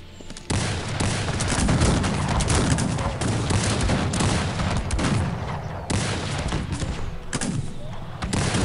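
Sustained gunfire in the strategy game Cossacks 3, a dense, loud barrage of overlapping musket volleys and booms that runs almost without pause, briefly dipping near the middle before resuming.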